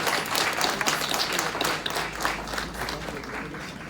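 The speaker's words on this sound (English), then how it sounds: "Let's give a warm round of applause to our graduates" Warm applause from the audience at a senior digital literacy programme graduation ceremony, a steady wash of clapping that holds for the whole stretch, with no talking.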